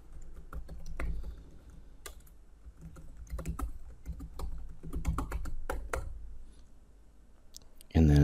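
An email address is typed on a computer keyboard in bursts of rapid close key clicks with short pauses, ending in a louder thump.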